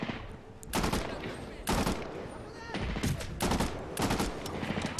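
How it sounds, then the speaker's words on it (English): Gunfire in the video game Medal of Honor Warfighter, rapid automatic bursts and repeated shots in quick succession, loud and close, with a busy battle mix underneath. "look at me shooting through your cover."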